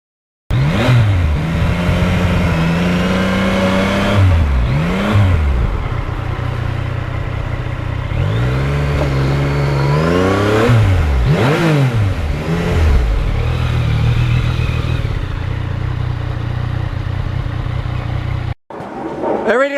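Ducati Monster and Yamaha MT-09 motorcycles riding down route 106, engines rising and falling in pitch through repeated revs and gear changes, loud and close throughout, cutting out abruptly near the end.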